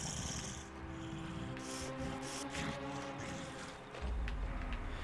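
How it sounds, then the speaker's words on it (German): A Breaker creature in the video game Days Gone snorts and grunts with a low, rough rumble and breathy bursts, fairly faint and continuous against ambient noise, with a deeper huff near the end. "Ja, ich glaube, das ist ein Brecher."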